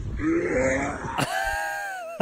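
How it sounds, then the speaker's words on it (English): A strained, retching groan comes from someone gagging without bringing anything up, then a sharp click and a fading ringing tone. "somebody just like dry heaving, like they're gonna cough up like a baby from the mouth"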